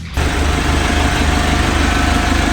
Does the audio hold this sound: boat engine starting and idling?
yes